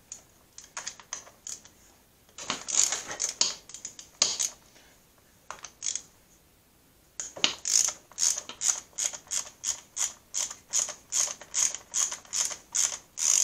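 Ratchet wrench loosening bolts on a core aerator, heard as bursts of rapid, sharp clicking, first in short broken runs with pauses, then a long steady series of close, loud ratchet strokes.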